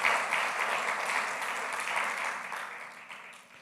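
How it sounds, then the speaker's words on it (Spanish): Church congregation applauding during a sermon, a soft, dense patter of clapping that starts strongest and gradually thins and fades toward the end. "¿Cuánto le damos un aplauso al Señor?"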